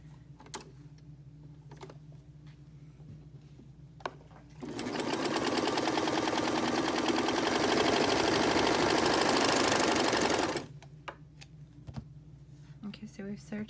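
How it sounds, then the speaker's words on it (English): Serger overlocking the edges of a three-layer fabric mask, a fast steady mechanical whir lasting about six seconds, with quiet handling clicks before and after. "I'm going to serge these."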